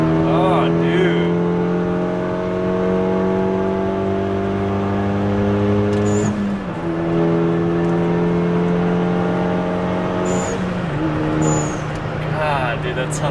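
A 2016 Kia Forte running on E85 fuel revs and accelerates, its engine droning steadily up through the gears with a sharp blow-off valve hiss between shifts, loud and close, with voices talking over it.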